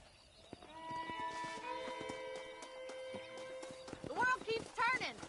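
Horses in the Red Dead Redemption video game trot with a steady clip-clop of hooves under a sustained musical backdrop, and brief whinny-like calls rise near the end.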